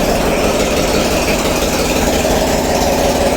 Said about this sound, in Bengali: আর পিছনে হচ্ছে ইঞ্জিন রুম